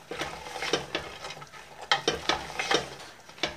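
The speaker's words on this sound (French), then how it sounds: "On mélange." White Tarbais beans with thyme and savory being stirred in a cast-iron cocotte: a series of close, distinct scraping and clinking strokes at an uneven rhythm, with no voices.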